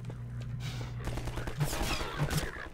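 Enemy gunfire in Half-Life 2 rattles in quick bursts over a low steady hum, a fusillade of shots rising toward the end, fairly close and loud.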